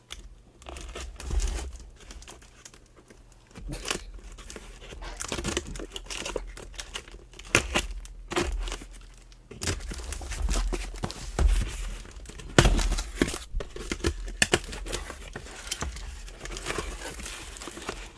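A Secret Santa parcel is opened with a Stanley knife, giving a long stretch of close crinkling, crunching and tearing of packaging and wrapping in irregular bursts, with occasional thumps of handling and no talking.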